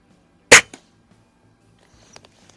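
A single sharp shot from a Daisy model 131 .177 break-barrel spring air rifle firing Crosman Premier hollow-point pellets at a range, a crisp crack followed by a small thud, then near silence.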